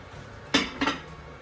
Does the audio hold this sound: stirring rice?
yes